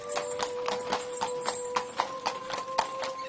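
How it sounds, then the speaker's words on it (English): Steady, evenly spaced clip-clop of hooves on a hard surface, a clear rhythmic sound effect of an animal approaching at a walk, with no voices. "we began to hear the sound of hooves."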